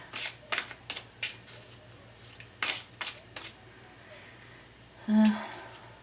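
Tarot cards are shuffled in several crisp riffling bursts, close by and separated by short pauses, followed by a brief louder rustle as a single card is drawn.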